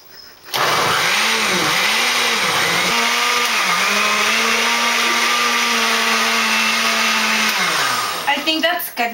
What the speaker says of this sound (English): put it on the blender, and you're gonna mix.